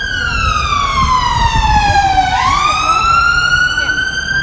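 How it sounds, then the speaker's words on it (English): An emergency vehicle siren passes along a city street during a rally in Manchester. It is loud and close, with a long falling then rising wail as the vehicle goes by over traffic and street noise. "I'm going to wait for the fire ambulance to go past"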